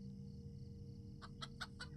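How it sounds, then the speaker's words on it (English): A chicken in the video game LOTRO clucks four times in a quick, even series, faint against a low steady background hum, with no talking. "She's on the roof. I couldn't see that chicken originally."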